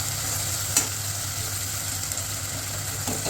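Masala for mutton masala fries in oil with a faint, steady sizzle under a low constant hum, broken by a couple of soft clinks of stirring, with no voices.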